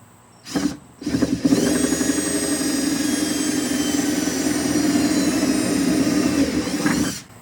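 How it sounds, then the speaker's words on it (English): A drill starts with two quick revs, then grinds steadily through a boat's fiberglass transom for several seconds before winding down, loud and close. "help guide me drilling through the fiberglass"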